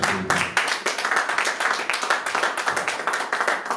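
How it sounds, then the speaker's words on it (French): A church congregation claps during a Sunday service, with many hands producing quick, rhythmic, fairly loud applause that carries on for a few seconds, close and lively. "Et on acclame aussi pour notre sœur Marita."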